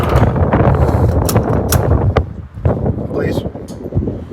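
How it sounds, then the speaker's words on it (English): Strong wind gusts outdoors at a fuel stop beside a Peterbilt truck, buffeting the microphone in loud, rough rushes that rise and dip irregularly. "That's wind. I'm tired of the wind."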